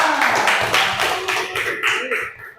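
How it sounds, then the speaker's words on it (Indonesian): A classroom group claps together in a quick, steady rhythm during a teaching practice session. The claps are loud and close, with voices mixed in over the clapping. "tepuk tangan."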